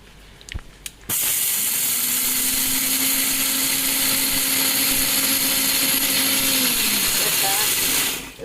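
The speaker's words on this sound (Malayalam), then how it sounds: "എന്നിട്ടാ പാത്രത്തിൽ നിറച്ചിട്ട് ഇത് പൊടിക്കട്ടെ" A kitchen mixer grinder whirs loudly and steadily while grinding wheat grains into flour, starting abruptly after a few clicks, holding a constant high drone with a tonal hum for about seven seconds, then winding down.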